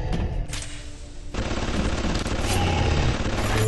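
An automated turret in the Bioshock game fires continuous bursts of gunfire, dense and loud, rattling without pause throughout.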